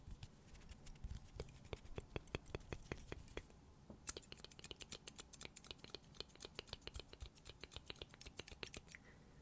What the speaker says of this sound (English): And just let me cut your hair.